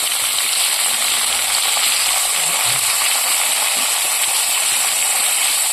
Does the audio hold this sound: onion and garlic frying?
yes